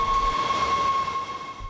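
A northbound rail transit train pulls into a station with a loud, steady rumble of wheels and cars and a sustained high metallic whine over it, close by and without voices.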